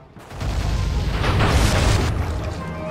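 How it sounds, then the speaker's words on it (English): Ship cannons fire in the video game Sly 3, a loud, close blast that swells into a rolling, rumbling roar lasting a couple of seconds. "Load the cannons and prepare to come about"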